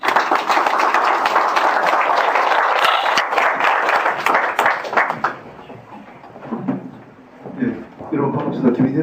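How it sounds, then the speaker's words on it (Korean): An audience in a large auditorium at the founding meeting of a maritime arbitration association claps in loud sustained applause that fades after a few seconds, followed by someone speaking. "큰 경례의 박수를 보내주시기 바랍니다"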